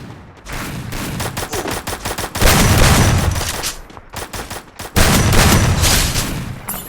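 Gunfire in the Free Fire video game comes in loud, rapid bursts of automatic shots, with two heavier sustained volleys breaking up the quicker rattling strings and no voices over it.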